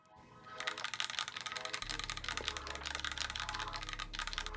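Typing on a Keychron Q0 mechanical numpad, a dense, fast clatter of close key presses with a low hum running beneath much of it.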